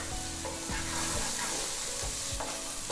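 Sliced garlic and ginger sizzle loudly in a hot pan, a dense, continuous frying hiss broken by a few rhythmic scraping stirs close by.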